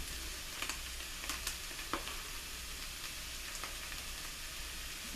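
Cheese melting with spinach in a hot pan over low heat for spinach dip, giving a steady soft sizzle and crackle with a few brief pops and stirring clicks, close and moderately quiet, no talking.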